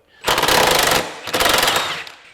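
A power tool rattles hard against the subframe bolts of a 2020-25 Kia Telluride during a lift kit install, giving two loud, close hammering bursts of about a second each with a short gap between them.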